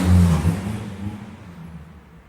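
A car passes by at night on a quiet road, a loud low engine rumble at the start that fades steadily away over a couple of seconds.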